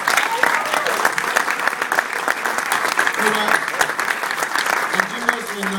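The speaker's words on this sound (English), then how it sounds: "they should get a round of applause" A Q&A audience at an Attack the Block screening at SXSW 2011 applauds the film's producers, steady close clapping from a full room sustained throughout, with a few voices murmuring underneath.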